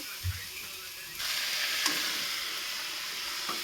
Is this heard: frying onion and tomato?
yes